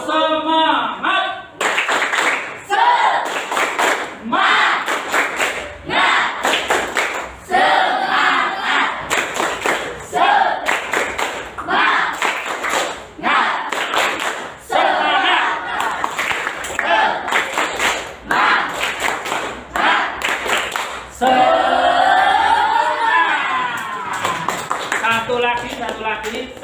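An Indonesian primary classroom in a Qur'an and Hadith lesson stands and performs rhythmic clapping chants together: loud, close bursts of many hands in repeated patterns, with the children's voices chanting along and brief pauses between rounds.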